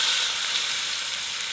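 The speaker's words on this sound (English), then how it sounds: "We'll go in with our beef, and I just want you to listen to that sizzle." Beef hits hot oil in a pan, giving a loud, steady, bright sizzle that holds constant from start to finish with no voices.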